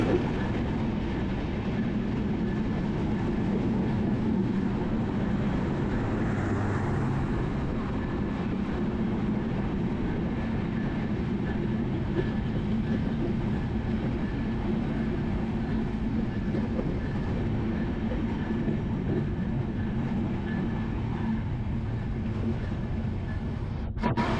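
The Lalmoni Express waits at Natore railway station, its engine holding a loud, unbroken, low rumble with faint tonal hum for the whole stretch, no speech over it.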